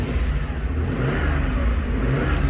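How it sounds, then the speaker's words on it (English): A 1977 Porsche 930 Turbo RSR tribute engine revs steadily in a low, rumbling drone with a mid-range growl. It holds a continuous rev without pause, heard up close in a shop setting. "Revs up nice."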